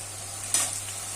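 Soy sauce sizzles in a hot frying pan for chilli chicken, with a soft hiss under a low hum and a brief burst of sizzling and scraping as it is stirred.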